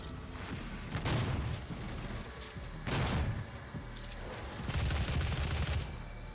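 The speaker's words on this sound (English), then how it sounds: "Let's use this big gun." A big gun firing in the PC game Doom, three heavy booming blasts spaced about two seconds apart, each with a rumbling tail, over a constant dense game soundscape.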